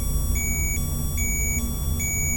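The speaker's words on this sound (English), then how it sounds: "Once the reservoir volume is empty, it gives an alarm." A medical infusion pump with an empty reservoir sounds its alarm, a regular series of short high electronic beeps repeating about every 0.4 seconds over a low background hum.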